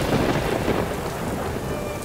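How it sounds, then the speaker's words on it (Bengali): A heavy thunderclap rumbles loud and deep over steady pouring rain in an audio drama storm effect, filling the whole moment with no voices. "সঙ্গে সঙ্গে বিরাট জোরে একটা বাজ পড়ল।"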